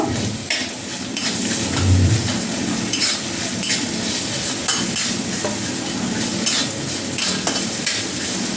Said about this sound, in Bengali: সামান্য পরিমাণ হলুদ, স্বাদ মতো লবণ। ভালো করে ভেজে নেব।